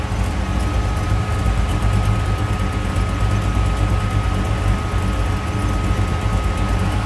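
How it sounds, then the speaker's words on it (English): A 1931 Ford Model A roadster street rod with a 350 small block V8 idles with a low, steady rumble, close and continuous, with a faint whine above the engine note. "so you can hear a little rumble coming out of that 350 small block"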